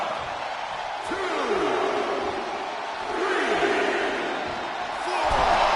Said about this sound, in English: However you feel about Seth Rollins, he knows how to get the crowd going.